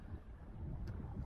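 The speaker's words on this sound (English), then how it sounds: "Yeah, it's still windy." Strong wind of 22 to 25 knots sweeps across open water around a small inflatable fishing boat, making a steady, fairly faint low rumble with no one speaking.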